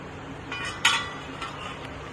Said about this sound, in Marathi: आता गॅस कमी करून झाकण ठेवूया.